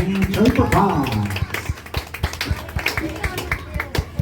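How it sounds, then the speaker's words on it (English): Audience at the Tweetsie Railroad old west show claps for the cowboys and cowgirls, first under loud excited voices and then as a thinning run of separate close claps. "have a great big round of applause for the Tweetsie Cowboys, Cowgirls, and Trooper Pods"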